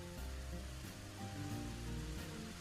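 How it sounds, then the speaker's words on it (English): Video game rain in Axiom Verge 2 makes a steady soft patter and hiss with a low droning hum beneath it, continuous and fairly quiet throughout, with no speech. "It might be the rain."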